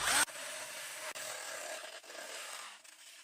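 A small power cutter slices through a plastic mineral water bottle, producing a steady, close rasping whine with a couple of brief dips as the blade bites, and no talking.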